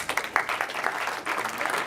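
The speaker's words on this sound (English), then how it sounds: "Give him a round of applause" Brief applause breaks out from a small audience during a talk as a man is invited up to the front. It is a short, fairly loud burst of mixed claps with a few voices underneath.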